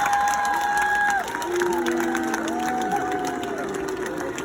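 A crowd of softball fans at a national championship celebration lets out long drawn "looo" calls, a sustained mass of voices rising and falling steadily, loud and close throughout.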